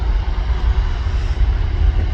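An Airbus A330 airliner taxis out at Manchester Airport, heard as a steady low jet rumble with a broad hiss, moderately loud and continuous with no talk.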